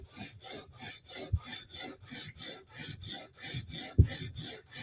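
A knife heel is stroked repeatedly across a sharpening stone to remove the burr, giving about a dozen evenly spaced raspy scrapes, close and quiet, with no talking.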